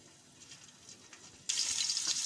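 Chicken for kabsa hits a hot pot: a faint quiet hiss gives way abruptly to a loud, bright, steady searing sizzle for the final second, with no talking.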